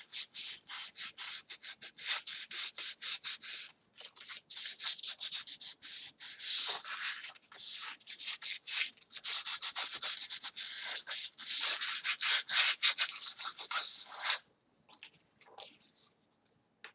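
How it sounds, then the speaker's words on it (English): Hand sanding roughs up a small piece to give it tooth, with rapid back-and-forth scratchy strokes in bursts and short pauses, close and fairly loud before fading to a few light rubs with no talk. "I'm going to try to sand it"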